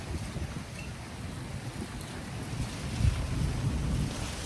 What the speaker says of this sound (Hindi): दोस्तों बारिश बहुत दिनों के बाद हुई